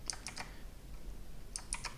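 Light typing on a computer keyboard, a few quick key clicks in two short bursts at the start and end, quiet and close.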